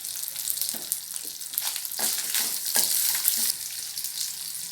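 Five dried red chillies crackle and sizzle in a hot pan with oil while being stirred for ridge gourd chutney, a close, busy spitting hiss with scraping stir strokes, no voices.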